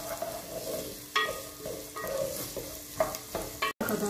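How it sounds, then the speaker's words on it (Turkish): Carrots sauté in oil with onions in a pan for spinach soup. A steady close sizzle runs throughout, broken by several scraping stirs of a spoon against the pan. "Şimdi havuçlarımızı koyuyorum. Rengi çıkana kadar kavuracağım dostlar."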